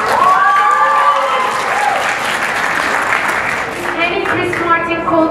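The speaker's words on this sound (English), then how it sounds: "A round of applause for Harry Styles again." An eleventh-grade graduation ceremony audience breaks into loud, sustained applause, with voices and cheering mixed into the dense clapping throughout.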